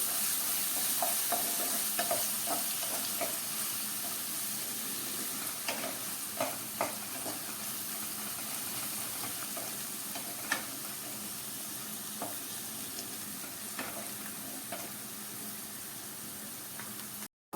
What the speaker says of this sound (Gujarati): ડુંગળી એડ કર્યા પછી આપણે ડુંગળીને તેલ અને વઘાર સાથે સારી રીતે મિક્સ કરતા જઈએ